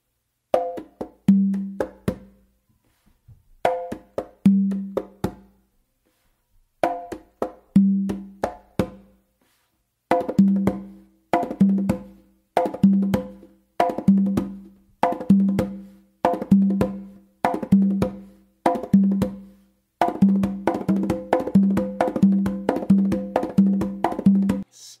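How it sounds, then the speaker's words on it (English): Conga drum played in a combination, hand bass tones mixed with sharp finger strokes in repeating rhythmic phrases, close and dry, growing denser and faster toward the end. "you're gonna go back to your main drum and you're going to do a bass with your right hand"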